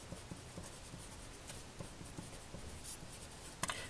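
A pen sketches a graph of a rational function on paper, giving soft, close scratchy strokes in a steady run, with a few light taps and a sharper tick near the end.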